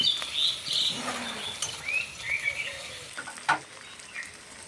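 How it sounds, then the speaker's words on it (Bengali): Chopped garlic, chili and onion fry lightly in a pan, giving a soft, continuous sizzle with a few stirring clatters. Faint bird chirps are heard in the background, and no one speaks. "রসুন কুচি, লঙ্কা কুচি, পেঁয়াজ কুচি খুব একটা ভাজবো না, হালকা ভাজবো।"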